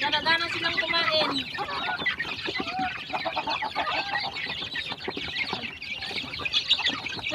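Young chicks crowd around homemade chick booster feed, a dense, steady chorus of peeping and soft clucking throughout, fairly close and busy.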